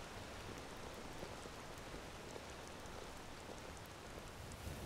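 Steady rain falls in the Skyrim video game, a soft, even patter and hiss that stays constant and fairly faint throughout without voices.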